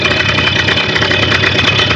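A Simson S51 moped engine idles steadily and continuously, a dense, even mechanical running sound at close range with no talking, its fuel injector firing in short pulses.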